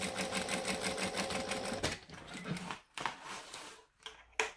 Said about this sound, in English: stitch with the correct seam allowance so it's going to fit well